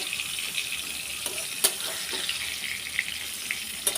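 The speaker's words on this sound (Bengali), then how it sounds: "এখন উল্টে দিচ্ছি আরেক পিঠ যাতে ভালো করে ভাজা হয়ে যায়।" Ash gourd pieces fry in a pan with a steady, close sizzling hiss and occasional sharp pops and crackles; no one speaks.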